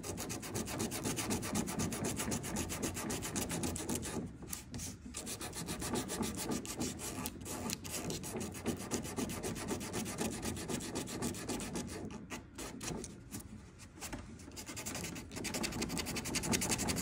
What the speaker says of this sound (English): it's better for me just to hand sand because I don't want to do anything too aggressive